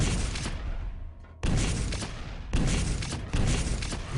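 Railgun shots in a competitive Quake match, three loud, sharp blasts with long ringing tails, each cutting in abruptly after a brief quieter gap.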